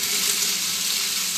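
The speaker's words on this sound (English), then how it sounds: "I'll put the fish in." Fish laid into a pan of softened onions fries with a loud, steady, close sizzle that hisses evenly throughout, with no voices.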